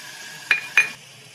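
Ginger garlic paste drops into a pan of bottle gourd and prawns frying for Bengali lau chingri. Two sharp clinks of a spoon against the pan come over a soft, steady sizzle.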